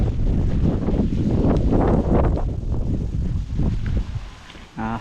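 Wind gusts buffet the microphone over rice fields, a rough, roaring rumble that swells and eases in waves and stays loud and close before dropping briefly near the end.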